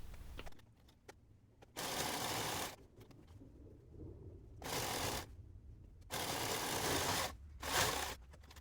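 A sewing machine stitches the hem of a woven t-shirt in four separate loud bursts of rapid whirring, each lasting about a second, with quiet handling and fabric shuffling in between.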